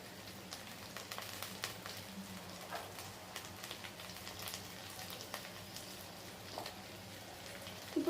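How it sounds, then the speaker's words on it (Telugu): Green chillies and curry leaves sizzling in hot oil, a steady crackling hiss with scattered pops, fairly faint and continuous without talk. "నెక్స్ట్ పచ్చిమిర్చి, నెక్స్ట్ కరివేపాకు వేసుకుందాం."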